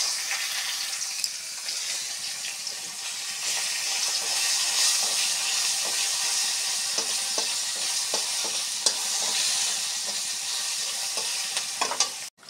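Onion and black cumin (kalonji) fry in hot oil for a crab curry, giving a steady close sizzle with scattered stirring scrapes and clicks throughout, ending abruptly.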